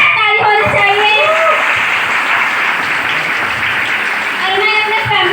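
Loud clapping from a network-marketing seminar audience, a dense, even roar of hands that stays strong throughout, with cheering voices rising above it in places.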